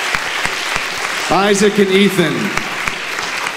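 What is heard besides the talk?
audience applause for performers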